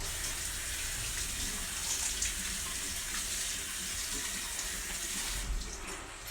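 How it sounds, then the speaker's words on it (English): Tap water runs steadily into a kitchen sink while a handful of fresh beans is rinsed for a dinner of sausages and vegetables, a continuous close hiss that thins out near the end. "I'm just going to wash a handful of beans that I want in tonight's dinner"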